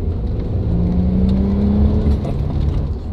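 An Audi RS4 accelerates hard, its engine holding a steady, loud drone with a rising tonal whine throughout, recorded close with no talk.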